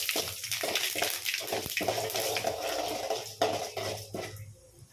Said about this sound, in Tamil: கொஞ்சம் உளுத்தம்பருப்பு பாருங்கள் பொரியுது